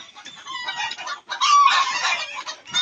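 Backyard poultry flock in a loud commotion: chickens cluck rapidly and a rooster crows over them, near and sustained with a brief lull midway.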